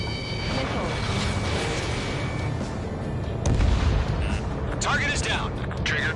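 Missile explosions and combat rumble in a jet fighter video game, heavy continuous low roar with a louder boom midway, while voices talk over the action.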